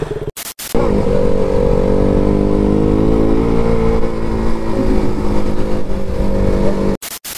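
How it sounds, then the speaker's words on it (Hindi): A KTM Duke 390 2022 motorcycle engine running loud and close on wet ground near Gulmarg, a steady droning rumble with slight revving that cuts off abruptly near the end. "तो जी अभी राइड करने वाला हूँ मैं ड्यूक 390 2022"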